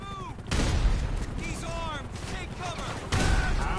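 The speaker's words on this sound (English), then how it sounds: "Stop shooting everything!" Movie gunfire bursts out in loud, dense volleys at the start and again near the end, with shouting voices mixed in between the shots.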